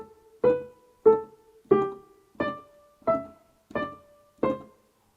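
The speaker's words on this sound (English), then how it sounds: "it means you have to play staccato, which is short and detached" Seven short, detached piano notes played staccato at an even, steady pace, each struck cleanly and cut off quickly with brief silence between, heard alone and close.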